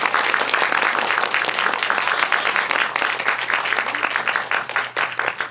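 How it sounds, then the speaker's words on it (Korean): Audience applause at a cinema guest-visit screening event at Lotte Cinema World Tower, Seoul: dense, steady clapping from a full house, loud and close throughout, with no speech over it. "한번 일어나서 박수 한번 받으세요"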